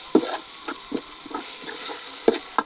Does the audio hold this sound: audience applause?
no